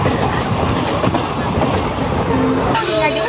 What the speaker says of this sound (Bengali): ট্রেনটা লোকালই বলতে পারেন